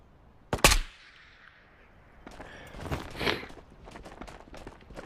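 Gunfire in the video game Ghosts of Tabor: one loud sharp shot near the start, then a quieter stretch followed by a cluster of scuffling, crackling bursts, with no talking.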